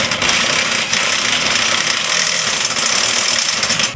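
An impact wrench loosening a tie rod on a 1999 Mercedes-Benz ML320, heard as a loud, continuous hammering rattle that is close and harsh and holds steady for the whole stretch, with no talking.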